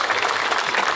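Audience applause at a gala in Fălticeni, a brief dense burst of many hands clapping filling the moment at steady loudness.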